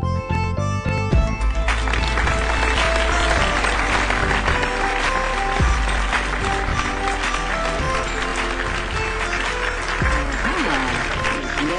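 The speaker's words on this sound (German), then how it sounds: "einen herzlichen Applaus" Studio audience applause greeting a guest on a German talk show, a dense, steady wash of clapping with music-like tonal layers underneath, loud and continuous throughout.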